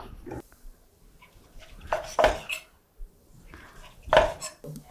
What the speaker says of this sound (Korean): 고기를 이제 썰어 보도록 하겠습니다